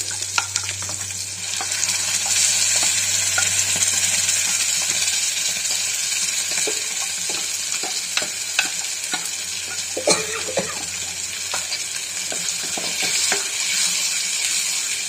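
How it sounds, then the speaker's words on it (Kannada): Masala spices frying in hot oil in a pan while making egg gravy, giving a steady, loud sizzle and hiss that runs throughout, with occasional small pops and stirring scrapes. "ಮಸಾಲೆ ಎಣ್ಣೆನ ಒಂಚೂರು ಫ್ರೈ ಮಾಡ್ಕೊತೀನಿ"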